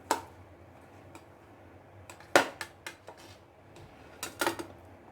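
A knife cuts boiled eggs into pieces on a board, making sparse sharp taps and clicks, some faint and some sudden and close, with quiet gaps between the cuts.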